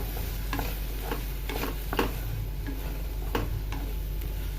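A thick tomato, onion and cashew paste stirred in a pan for aloo gobhi masala curry, with soft scraping strokes repeating at an uneven pace over a steady low sizzle, close by and without any voices.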